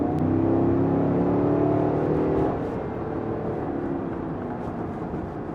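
A 2021 Cadillac Escalade Platinum 4WD, loaded with passengers and luggage, accelerates with a loud, steady engine drone heard from inside the cabin, easing to a lower hum after a few seconds.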